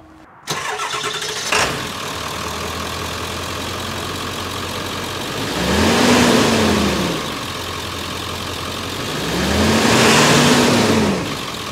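A Ford Excursion SUV engine cranks and starts, settles into a loud rumbling idle, then revs up twice in long swelling pulls, close by.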